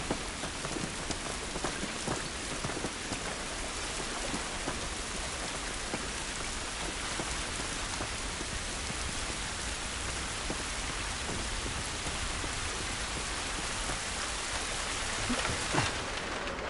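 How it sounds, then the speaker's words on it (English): Steady rain pours down in the video game The Last of Us, a dense, continuous hiss of drops on surfaces lasting the whole stretch, with no talking. "This rain ain't gonna do us any good."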